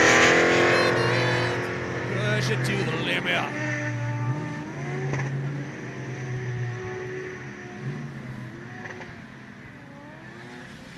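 Adam LZ's drift car runs on the GRIDLIFE Midwest track, its engine droning and revving faintly in the background beneath loud, continuous commentary.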